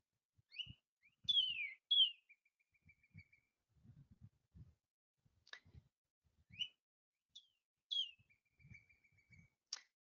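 Clear, bright bird song with sweet rising and falling whistled phrases, repeated in short bursts with pauses, heard alone against a quiet background.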